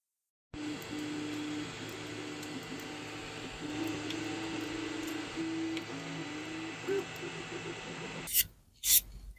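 A 3D printer prints a part, a faint, steady mechanical hum with soft rising and falling motor tones, close and alone, ending in a couple of sharp clicks.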